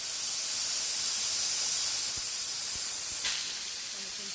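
Steam hisses steadily and loudly from a pressure cooker's release valve after the lid weight is pulled off, a constant close rushing spray with a few faint clicks.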